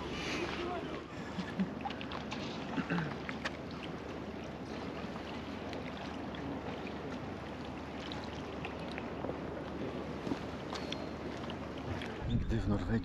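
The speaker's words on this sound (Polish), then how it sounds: "Znowu pada." Steady rain falls in a small Norwegian town, a continuous broadband hiss that stays even throughout, with a brief louder rustle at the very end.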